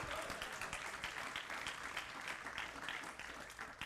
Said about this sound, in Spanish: Dele un aplauso al Señor si usted lo conoce.